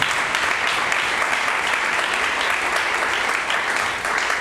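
A church congregation at a Sunday service claps together in sustained, dense applause that holds at a steady, fairly loud level for the whole stretch.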